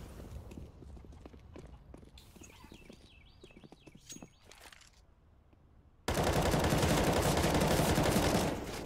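A sustained burst of automatic gunfire sprayed in Counter-Strike on the Cobblestone map, bursting in loud and dense after a stretch of quieter footsteps and small game sounds, then lasting a couple of seconds.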